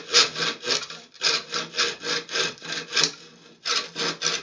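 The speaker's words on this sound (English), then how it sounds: "Wait until you're done cutting wood." Rhythmic back-and-forth strokes of a hand saw cutting through wood, close and loud, with steady regular pulses, a brief pause near the middle and another short break before the strokes resume.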